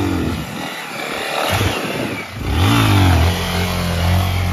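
Honda XRE 300 motorcycle engine revving hard through a wheelie, rising to a loud, sustained high-rpm drone after a brief dip, close to the microphone with no talking.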